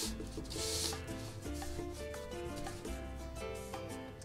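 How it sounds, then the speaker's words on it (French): A net is slid onto a PVC tube, giving a soft continuous rubbing and scraping of mesh against plastic, faint and close, with no voices. "Première étape, ça sera d'enfiler mon filet autour du tube PVC."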